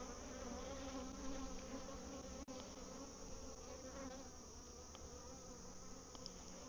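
A dense, steady hum of many bees buzzing in a bee yard, continuous and close, with one sharp click partway through.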